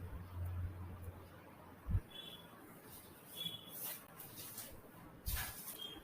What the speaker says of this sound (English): see this video how will apply the penetrant